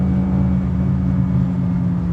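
Steady, loud mid-pitched drone of a BMW E36 318is engine running in race mode, heard close from inside the car with a constant rumbling hum and no talking.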